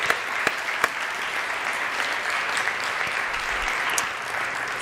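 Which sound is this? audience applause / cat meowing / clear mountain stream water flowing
audience applause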